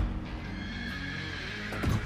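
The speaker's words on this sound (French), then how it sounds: "On entend le cheval de l'intérieur." A horse neigh plays from inside a Mustang in The Crew Motorfest, loud and close over the steady low hum of the car's cabin, with a sharper whinny burst near the end.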